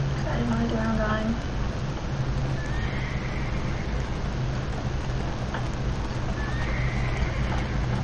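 A horse whinnies and hooves clip-clop in a Roblox horse game, with neighs standing out near the start and again later over a steady background bed.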